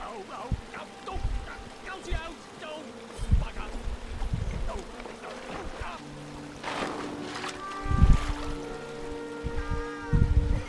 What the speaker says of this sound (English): You guys are still trying to, like, get rid of the bees.